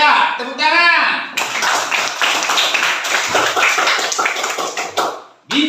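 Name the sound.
class clapping hands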